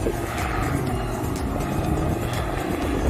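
A Dodge Viper ACR Extreme rated at 610 horsepower roars steadily as it approaches, a dense continuous engine and road rush filling the whole stretch without a break.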